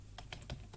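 Rapid keystrokes on a computer keyboard, a handful of crisp clicks in quick succession, close and fairly quiet against a low background hum.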